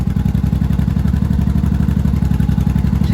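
A 1980s Yamaha Maxim 750 or Honda Shadow motorcycle engine idles steadily up close with the choke almost off, a loud, even low chug with a regular pulsing rhythm and no talking.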